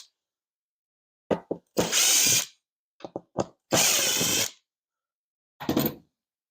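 Power drill backing out hinge screws from kitchen cabinet doors, heard close and loud as several short bursts: brief blips, then longer whirring runs of about a second each, separated by quiet pauses.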